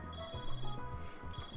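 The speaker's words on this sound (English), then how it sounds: "Yeah, my stupid phone." An in-game phone rings in Trails Through Daybreak, a short electronic ringtone with repeating tonal bursts over a steady low musical bed.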